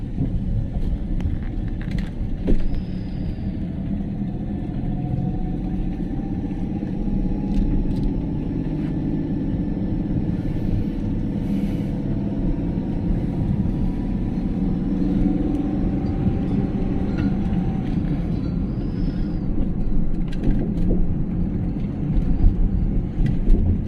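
Car driving slowly along a rough road with potholes and rocky stretches, heard from inside as a loud, continuous low rumble and road noise with occasional thumps, steady throughout.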